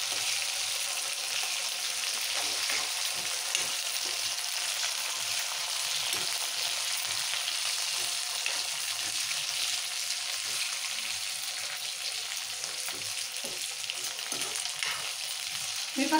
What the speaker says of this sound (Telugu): మిరపకాయలు టమాటా పచ్చడికి మంచిగా వేయాలి.